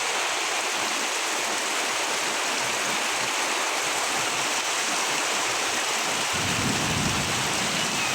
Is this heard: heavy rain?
yes